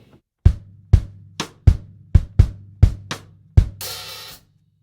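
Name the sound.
drum kit playing bar 6: bass drum, cross stick, open hi-hat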